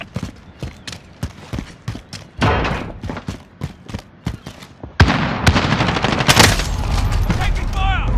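Gunfire in Call of Duty Modern Warfare during training at Hackney Yard: rapid sharp single shots crack out in a steady rhythm, then a dense, louder stretch of sustained automatic fire and explosions.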